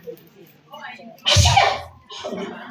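A person sneezes once, loud and close, during an Indonesian religious study session, with speech before and after it.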